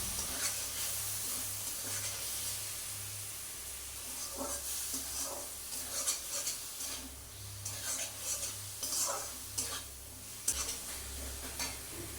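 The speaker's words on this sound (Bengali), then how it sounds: "পরিমাণ মতো লবণ আর হলুদ দিয়ে এগুলো মশলাটাকে আমি কষাবো" Ground spice paste with salt and turmeric frying in oil while being stirred, heard as a faint, steady sizzle with soft intermittent scrapes and clinks of a spoon against the pan, and no talking.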